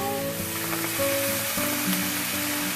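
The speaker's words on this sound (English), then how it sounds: "You can hear the sizzle." Vermicelli sizzles steadily in a hot pan, a soft constant crackle under a faint tonal hum.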